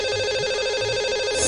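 A phone line rings steadily and fairly loud for a call to a lucky caller on a Hindi morning show, with repeating tonal bursts and no voices.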